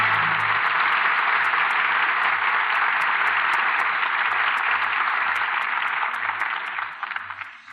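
Studio audience applause closing a Lux Radio Theatre broadcast of Slattery's Hurricane, a steady, dense wash of clapping that holds for several seconds before starting to thin at the end, with faint music underneath.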